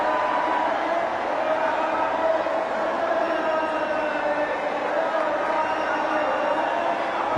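Murmuring from an unhappy cricket stadium crowd holds at a constant, dense level, a broad far-off roar with no clear peaks or applause.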